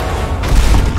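A single gunshot in the Resident Evil 2 Remake, a close, loud boom with a low rumbling tail amid steady game background noise.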